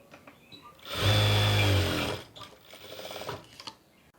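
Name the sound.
sewing machine stitching a skirt pocket join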